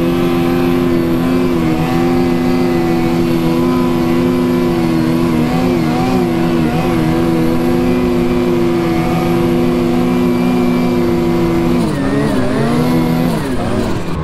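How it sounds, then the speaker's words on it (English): Race snowmobile engine, a 600 RS, droning loudly and steadily as it climbs a snowy hill, with a shift in pitch near the end. "Race sled, they'll definitely have no problem coming up that."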